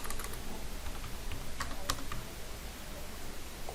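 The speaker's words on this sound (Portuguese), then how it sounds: "Eu venho e tenho que digitar meu token aqui" Light, close clicks of fingers tapping a computer keyboard to enter a security token, soft and scattered over a quiet room hum.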